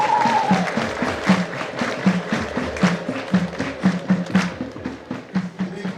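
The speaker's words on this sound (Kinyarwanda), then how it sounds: "Nihabwe amashyi, impundu ndetse ivugirizwe n'ingoma." At a parish 25th jubilee celebration, a crowd claps while drums pound a steady rhythmic beat, with a high ululating voice at the start and lively cheering over the music.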